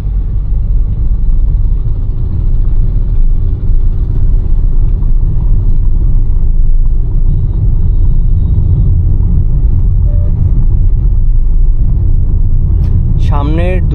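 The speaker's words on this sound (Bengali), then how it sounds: "আচ্ছা, ইঞ্জিন অন হয়েছে।" A hybrid car's engine runs while driving, a low steady rumble with road and cabin noise, loud and continuous throughout, with a brief higher-pitched chirp near the end.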